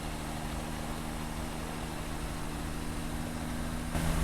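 Low, steady truck engine drone in Satisfactory, a continuous heavy hum with constant harmonics while driving, getting slightly louder near the end; no talking.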